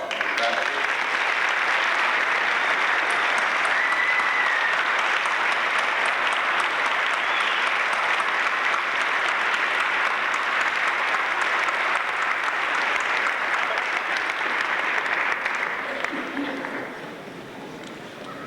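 Sustained applause from a graduation audience honoring the faculty at the Art Institute of Philadelphia, a broad steady wash of many clapping hands that holds loud for most of its length before easing slightly at the end.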